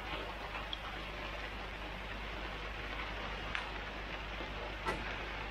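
Steady rain patters outdoors by a garden koi pond being enclosed for winter, a broad even hiss with a couple of faint sharper drops.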